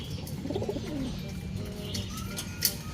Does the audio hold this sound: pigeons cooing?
yes